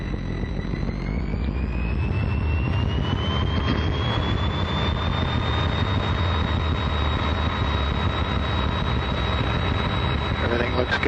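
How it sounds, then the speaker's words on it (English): A Piper Cherokee light aircraft powers up for takeoff on the runway, its engine a loud continuous roar with a whine rising in pitch over the first few seconds, then holding steady; radio or cockpit voices mix in under the noise. "Cleared for takeoff, runway heading, Cherokee 851."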